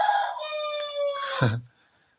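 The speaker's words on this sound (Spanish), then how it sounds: "mi vecino, el gallo, indica que ya amaneció" A rooster crows at dawn, a single loud, close call with a rising then sustained note that cuts off sharply, followed by a brief low rustle and then quiet.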